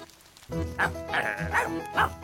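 A cartoon ladybird voice imitates a sheepdog with a run of four or five yappy barks, close and fairly loud, with no other sound around it.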